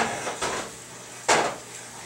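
A metal spoon scrapes and knocks against a pot while breaking up meat for a meat sauce over high heat, giving two scraping strokes, the second louder and close, with no talk.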